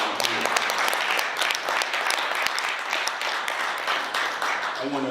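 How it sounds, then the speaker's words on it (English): At a Kappa Alpha Psi alumni chapter Founders Day gathering in Columbus, an audience gives a sustained round of applause, many hands clapping evenly for five seconds before a voice comes in at the very end. "So let's give him another round of applause."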